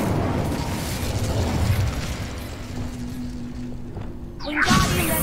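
An Incendio fire spell cast in the game Hogwarts Legacy: a sustained roaring, crackling burst of flame that eases off, then a sharp whooshing flare near the end, loud and close with no talking.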